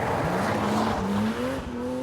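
Tyres of a 321 bhp BMW M Coupe squealing through a tail-happy slide, a rising, drawn-out screech over steady engine noise.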